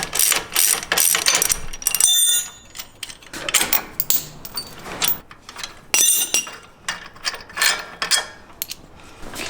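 A ratchet wrench with an 18mm socket works a lower shock bolt loose on a Jeep JL Wrangler, giving fast bursts of loud close-up clicking that stop briefly and then resume in an uneven rhythm.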